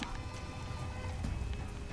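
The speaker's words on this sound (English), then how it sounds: "Does it rain every time we go against a bandit camp?" Steady rain falling during a fight at a bandit camp in the game Horizon Zero Dawn, a constant soft patter and wash of drops filling the short stretch without voices.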